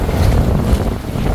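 Strong wind buffets and roars continuously, loud and close, with a rushing, water-like texture underneath.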